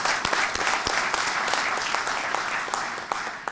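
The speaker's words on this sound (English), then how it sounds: "Give yourselves a round of applause." Audience applause at a symposium on Paraguay–South Korea relations: dense, steady clapping from a large crowd that carries evenly through the whole stretch, with a few sharper individual claps standing out.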